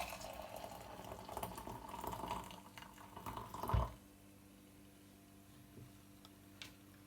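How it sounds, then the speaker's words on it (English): Water pours steadily into a cup with a trickling, rising tone, then stops abruptly; a few faint ticks and drips follow in a quiet room. "pour some hot water in it."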